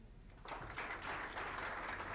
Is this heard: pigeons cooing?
no